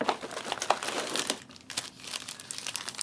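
Crinkling of a small plastic package of biscuits or crackers being opened from a Polish SRG 24-hour military ration, a close run of sharp crackles and rustles lasting about three seconds with no talking.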